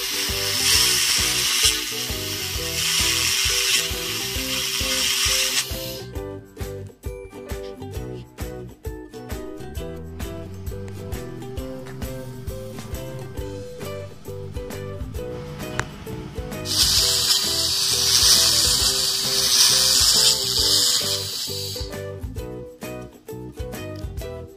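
A 1500W laser cleaning machine stripping rust gives a loud, sustained hissing crackle in two long bursts, with a quieter stretch of clicking and buzzing between them.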